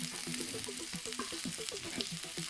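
Chopped, crushed garlic and spring onion hit a hot pan for Chinese silk potato, producing a close, steady sizzle and crackle with rhythmic stirring scrapes over about two seconds, no talk.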